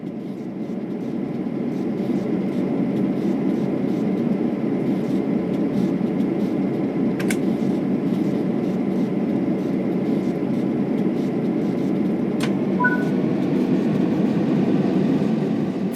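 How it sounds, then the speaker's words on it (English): An EMD F7 diesel locomotive in Train Sim World 4 throttles up from a standstill, held by its independent brakes. A steady, loud engine drone with low rumble runs throughout, with a couple of brief sharp clicks and a short tone near the end. "apply a small amount of throttle and verify that power is generated"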